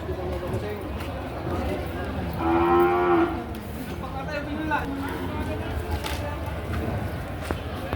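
Water buffalo at a livestock market gives a loud drawn-out moo midway, rising above a steady crowd murmur of people talking and bargaining nearby.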